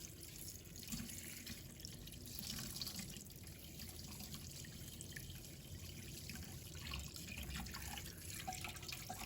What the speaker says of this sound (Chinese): 再用流动水把它清洗干净。